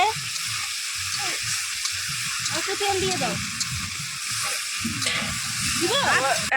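Mutton being fried and stirred in a pan for kosha at an outdoor family picnic, a steady sizzle running throughout with people talking over it.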